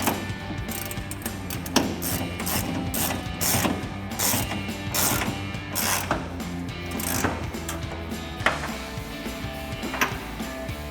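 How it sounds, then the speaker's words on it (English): A ratchet tightens the 21mm bolt heads and 22mm nuts on rear drop lowering shackles of a Silverado 1500 pickup, with close, repeated clicking strokes in bursts, pausing briefly between pulls. "Now we can go ahead and tighten these two bolts down."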